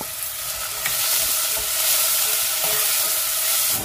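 Two whole garlic bulbs frying in hot oil give a steady, close sizzle with dense crackling hiss throughout and a few brief pops, with no talking.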